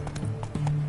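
Horse hooves galloping in The Witcher 3 Wild Hunt, a quick, steady clip-clop rhythm over a low droning game soundscape, lasting under a second.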